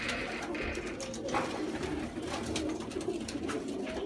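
Pigeons coo softly and repeatedly at close range, mixed with rustling and fluttering, near a nest.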